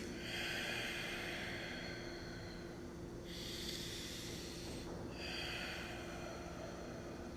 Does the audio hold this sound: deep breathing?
yes